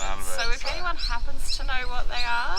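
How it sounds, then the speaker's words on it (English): A mother bird and two young birds calling from a tree above a parked van in Rockhampton, Queensland, repeated high chirps mixed under a close voice talking. "it's a single mother bird with 2 babies in the tree"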